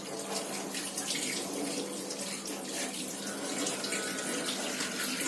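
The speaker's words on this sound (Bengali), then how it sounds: "আমি ধুচ্ছি এবার" Tap water runs steadily into a sink as items are washed, a continuous close splashing stream with no pauses.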